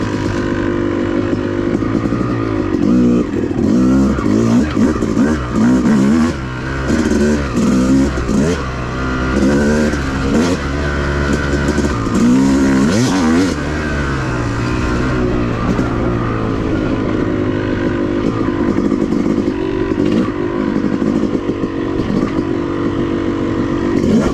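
Off-road motorcycle engine running on a mountain trail at Brown Mountain OHV, a loud, close, continuous drone with rising and falling revs and throttle blips throughout.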